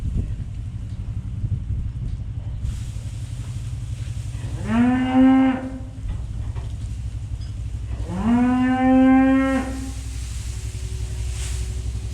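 Cows on a farm low twice, each long moo rising and falling over a steady low rumble in the background, the calls clear and fairly close.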